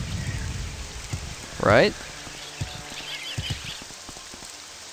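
Steady rain falling in the Arktwend video game, a soft continuous patter filling the background while someone talks briefly over it.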